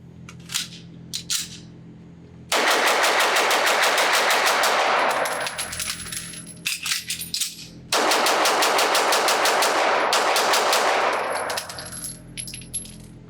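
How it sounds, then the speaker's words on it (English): A Sig Sauer P229 Combat pistol fired rapidly at a shooting range: two long strings of sharp, loud, closely spaced shots, each followed by quieter clinks and handling noises between strings. "So let's go back to the range, shoot it fast, and see what I discover."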